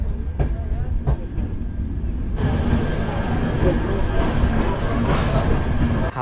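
The Amritsar Mail from Howrah pulls into Pratapgarh Junction, a loud rumbling train with clanking thumps early on, then a broad roaring wash as carriages roll past close by.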